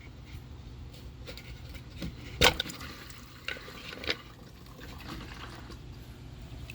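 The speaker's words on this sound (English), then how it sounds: "we're just going to put this coolant right back in that jug there" Coolant from a 2005 Hyundai Sonata cooling system drains through a funnel into a jug, a soft steady liquid trickle with a few brief louder splashes and clunks, heard alone without talk.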